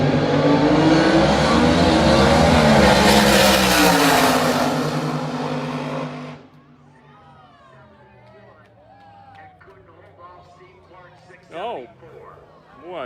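Two nostalgia funny cars launch side by side down a drag strip, a loud sustained roar lasting about six seconds before cutting off, followed by quieter crowd murmur and distant engine noise.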